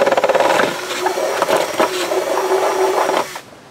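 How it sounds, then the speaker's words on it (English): A power drill set to torque mode whirs as it drives a screw into a waterproof electronics enclosure, with a steady close motor tone and ratcheting clicks before stopping near the end. "Switch my tool into torque mode."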